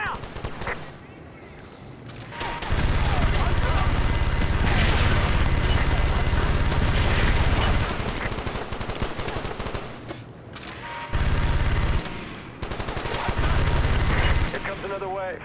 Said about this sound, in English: Get on that minigun!